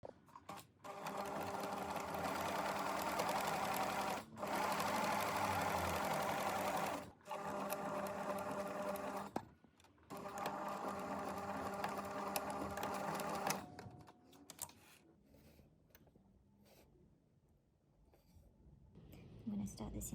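A sewing machine stitches fabric panels together for a gathered backless dress, running in steady whirring bursts broken by short pauses. The sound stops more raggedly toward the end, close and clear throughout.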